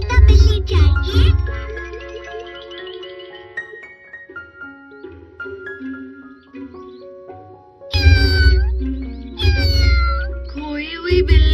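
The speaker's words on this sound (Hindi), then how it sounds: "खोई हुई बिल्ली, बेचारी बिल्ली।" Cartoon cat meowing repeatedly and plaintively in an animated Doraemon episode, loud close mews in bursts at the start and again near the end, with a soft music background between them.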